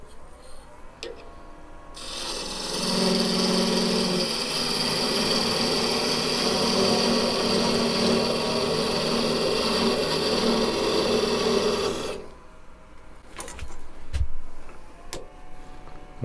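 A wood lathe turns down a tenon on a wooden piece for a magician's ball and vase, the cutting tool producing a continuous bright rasping whir for about ten seconds before stopping abruptly, with quieter workshop sounds on either side.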